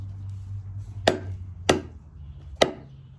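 A Wyatt Hines custom knife (RYNO) chops three times, each stroke a sharp, close impact with a short ringing tail, spaced about half a second to a second apart over a low steady hum.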